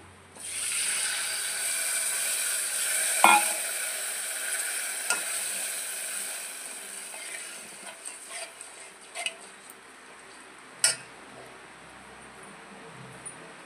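Tamarind extract goes into a pot of simmering drumstick rasam: a steady close hiss and bubbling, broken by a few sharp clinks of a utensil against the pot, with no speech.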